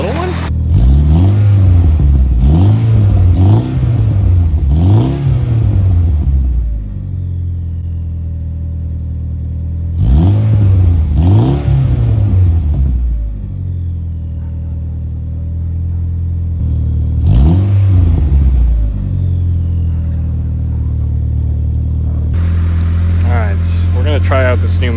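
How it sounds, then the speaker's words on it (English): A Mitsubishi Eclipse exhaust, run after a cold start at 5°F, is revved loud and close in three separate bursts of quick rising and falling blips, with a steady idle between them and some talking. "Should we get maybe just a little exhaust clip here?"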